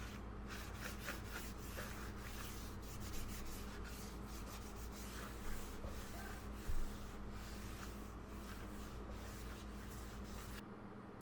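A cloth with alcohol rubbing along the rail of a OneWheel Pint X, a soft steady scrubbing at very low level with a few small knocks.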